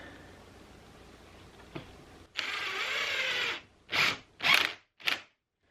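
A power driver sinks screws to mount French cleats on a workshop wall. One sustained whirring run is followed by three short bursts, close and alone against a quiet background.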